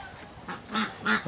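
Chinese geese on a poultry farm beside a pond give three or four quick, close honks in a short burst.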